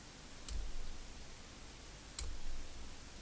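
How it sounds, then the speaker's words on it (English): Two sharp snips a little under two seconds apart as cutters bite through component pins on a LOMBEX LUX NOVA WiFi smart bulb during teardown, close and crisp over a quiet background. "Snip these pins off."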